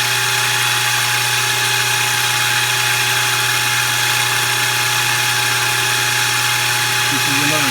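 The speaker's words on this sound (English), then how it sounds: "We're going to do one more cut." A milling machine cuts valve reliefs into a Predator 212 hemi cylinder head, giving a loud, steady machine whine with a constant drone and hum that runs unbroken throughout.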